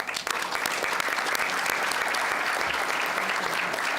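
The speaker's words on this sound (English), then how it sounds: "Applause to them." Audience at a European security and defence conference session applauds the keynote speakers, a steady, dense burst of clapping from a full room that carries on without pause.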